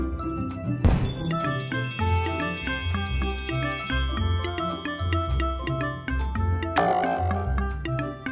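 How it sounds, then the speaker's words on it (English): Bright ringing strikes on a toy bus bell hit with a toy hammer, a single clear ding near the start and another later, over a continuous cheerful toy melody with bouncy bass notes. "Hit the bell."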